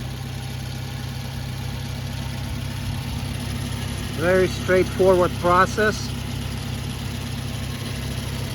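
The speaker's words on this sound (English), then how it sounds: "So we started the engine, and what you want to look out for, make sure the engine doesn't shake and works nice and even." A Toyota Camry four-cylinder engine idles evenly after a spark plug replacement, a steady low hum throughout, with someone briefly speaking over it midway.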